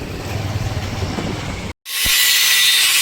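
A train passes a railway crossing with a loud, close rumble of wheels on track, then a brief cut, followed by an even louder hissing roar.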